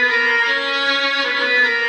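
A Yamaha MX49 synthesizer plays a layered Indian ethnic and string patch as a sustained, bright, reedy tone. It holds steadily for about two seconds with a slight shift midway, close and alone.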